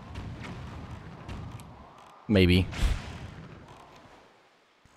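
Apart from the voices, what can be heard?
ship's cannon firing in The Legend of Zelda: The Wind Waker HD video game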